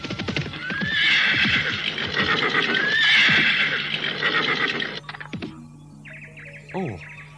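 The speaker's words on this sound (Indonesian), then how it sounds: "Namun setelah dekat baru tampak jelas penunggang kuda." A horse whinnies loudly twice in a radio drama, followed by clip-clopping hooves drawing closer, with faint birdsong at the end.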